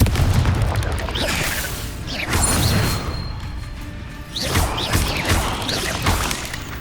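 Confringo fire-spell blasts in the Hogwarts Legacy video game land as booming explosions in bursts, one around two seconds in and another near four and a half seconds. Game ambience and combat effects fill the gaps between them.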